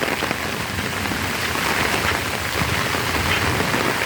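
Outdoor rainfall pours in a continuous, heavy wash of close drops hitting surfaces, steady and loud for the whole stretch with no speech.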